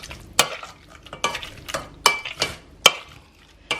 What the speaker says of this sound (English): we'll just use a masher and mash it down